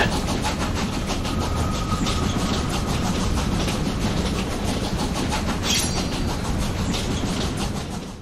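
Moving train in the video game Killer is Dead, a loud continuous rumble with rhythmic clickety-clack of wheels on rails that carries throughout and fades slightly at the end.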